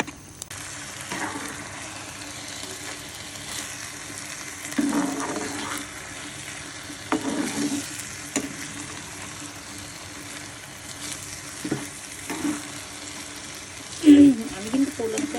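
Spices with salt and bay leaf sizzle in hot mustard oil, a soft steady frying hiss broken by several louder stirring and scraping bursts, with faint voices in the background.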